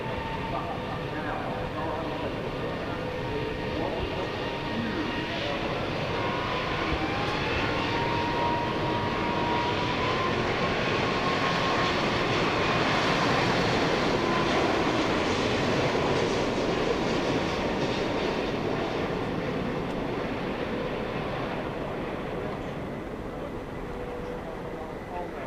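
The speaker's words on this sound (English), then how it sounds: "For an aircraft of its size, the A380 is a remarkably quiet aircraft as well, powered by 4 Rolls-Royce Trent 900 engines" An Airbus A380 with four Rolls-Royce Trent 900 engines flies a display at the Farnborough Air Show, a loud steady jet roar that swells toward the middle and eases slightly as it passes.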